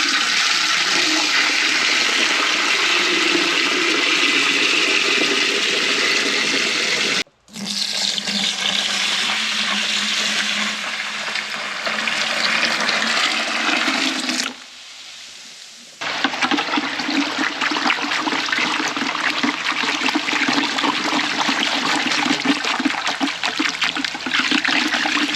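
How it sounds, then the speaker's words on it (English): Water gushes steadily into a bucket in a barn, mixed for greenhouse fertilizing, a loud continuous pour broken by two brief pauses near the middle. "get my exact measurements of water into this bucket"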